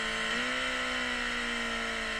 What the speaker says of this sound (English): That's the sound of engine braking.